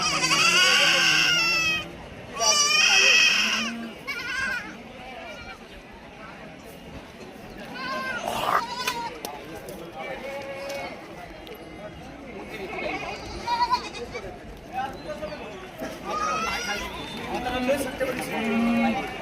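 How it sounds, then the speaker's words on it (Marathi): Goats and sheep bleat repeatedly at a busy outdoor livestock market in Shirur near Pune, the bleats loud and close at first, then mixed with crowd chatter and voices throughout. "पाच चांगल्या क्वालिटीच्या शेळ्या आल्या तिथे"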